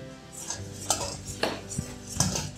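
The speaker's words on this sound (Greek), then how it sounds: "Λοιπόν, ανακατεύουμε λίγο με το σύρμα." Wire whisk stirring ingredients in a bowl held steady, for a healthy chicken pie: a few sharp metallic clinks and scrapes against the bowl at an irregular rhythm, close and moderately loud, with no talk.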